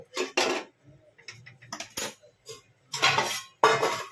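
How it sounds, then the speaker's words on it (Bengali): A metal lid is set onto a cooking pot of jackfruit with prawns: several sharp, close clanks and clatters separated by short gaps, with one loud pair of knocks near the end. "ঢাকা দিয়ে দিচ্ছি"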